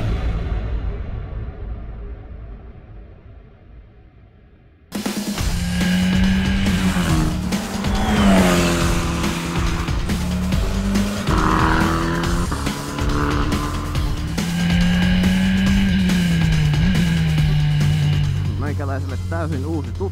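A Formula 4 race car at the Ahvenisto circuit starts up and drives, its loud engine rising and falling through gear changes with brief tire squeal, following a quiet stretch near the start, while people talk over it.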